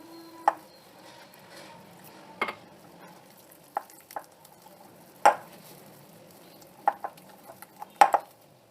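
Flour and water batter for jalebi being stirred in a bowl, with sporadic sharp clinks and taps of a utensil against the bowl over a quiet background.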